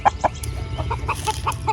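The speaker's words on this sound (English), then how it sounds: "one of our Red Ranger hens that we decided to hold back" A Red Ranger hen clucks nearby in a run of short, soft, irregular clucks over a low outdoor rumble, with no talk.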